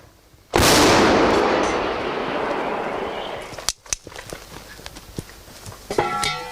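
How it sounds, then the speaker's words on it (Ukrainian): An artillery gun fired by a National Guard of Ukraine crew: one loud, close blast with a long rumbling decay, followed by faint scattered clatter. "Ведення артилерійського вогню безперервний процес, в якому задіяний кожен боєць розрахунку"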